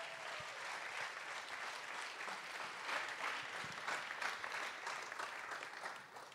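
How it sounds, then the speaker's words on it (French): Audience applause at an awards ceremony for digital-sector prizes, a steady wash of many hands clapping that continues throughout, moderately distant and faint, with no talk. "On peut l'applaudir."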